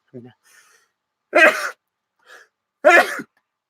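Two sharp, close sneezes burst out about a second and a half apart, with brief quiet breaths between them.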